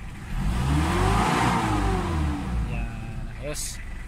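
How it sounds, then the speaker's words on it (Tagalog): A Mitsubishi Adventure 4D56 diesel engine revs up and settles back, a loud rising then falling drone, with a voice talking over it and a brief clink near the end. "Diesel engine pala to mga sir"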